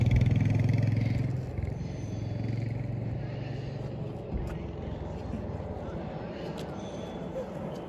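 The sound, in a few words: 125cc motorcycle engine riding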